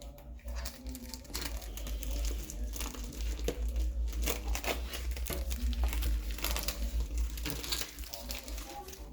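Scissors cut through plastic packaging while a product is unboxed, giving steady crinkling and crackling with sharper snips, close and continuous throughout.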